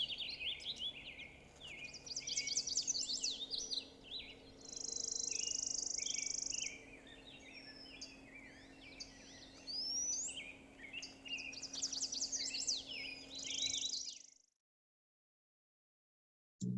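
A finch sings in repeated bursts of bright twittering phrases with a few sustained whistled notes, fairly faint against a quiet insect-like background hum, then the recording cuts to silence near the end.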